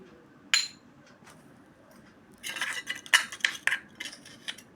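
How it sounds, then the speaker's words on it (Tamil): A spoon clinks and scrapes against the sides of a cup as a coffee mixture is stirred, one sharp tap followed by a flurry of close, bright clinks. "நல்லா மிக்ஸ் பண்ணிக்கோங்க"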